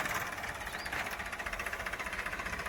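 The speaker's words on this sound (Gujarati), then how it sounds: "મસ્ત મજાનું ટ્રેક્ટર હાલે છે" A tractor engine runs steadily at a farm field, its rhythmic chugging pulse continuous and fairly close throughout, with no talk over it.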